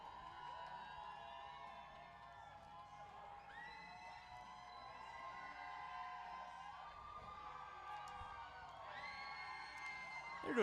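Dirt-track racing crowd cheering and whooping for the merchandise-tossing crew, a steady wash of voices with scattered shrill yells swelling near the end.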